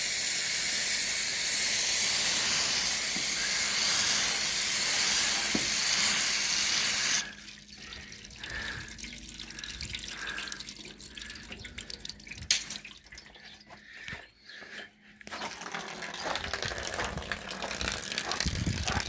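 Hose water rushing through newly fitted zinc gutters, a loud steady broadband wash that abruptly drops to a thinner trickle and splash about a third of the way in, with a sharp knock near the end.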